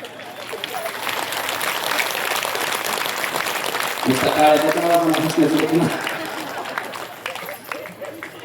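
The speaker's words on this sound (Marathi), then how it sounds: "म्हणून एकदा जोरात टाळी वाजवायची" An audience at a Shiva Mahapuran religious discourse claps loudly together in a sustained burst of applause that swells and fades, with crowd noise and a voice heard around it.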